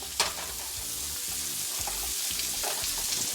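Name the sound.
onions frying in butter in a pan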